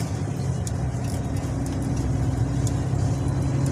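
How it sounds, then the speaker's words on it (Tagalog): Cars and trucks on a road in Pasig, near C5, a constant close engine drone and idling rumble with faint passing sounds and no talking. "Balik na ang mga sasakyan sa Pasig."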